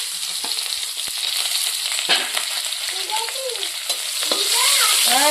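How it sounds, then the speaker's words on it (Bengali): Bay leaf, chopped onion and green chilli frying in oil with extra oil added after potatoes for a mutton curry, giving a steady loud sizzle with stirring scrapes and clinks throughout, no talking. "এখন আমি তেজপাতা দিয়ে দিলাম, পেঁয়াজ কুচি, কাঁচা লঙ্কা দিয়ে দিলাম।"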